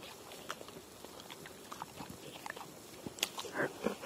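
A dog crunches and chews food up close, with soft irregular bites and crunches through the short stretch, louder toward the end.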